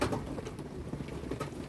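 Pigeons feed at a pot, giving soft low coos and faint pecking and shuffling sounds close by, quiet and without speech.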